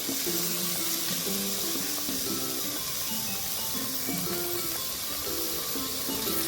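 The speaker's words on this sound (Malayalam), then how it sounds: "നമുക്ക് ചെറുതായിട്ട് അരിഞ്ഞു വെച്ചിരിക്കുന്ന തക്കാളിക്ക് ഇതിലോട്ട് ചേർക്കാം." Chopped tomatoes hit a hot frying pan for a homemade quail egg roast, giving a steady, close sizzling hiss throughout with soft background music underneath.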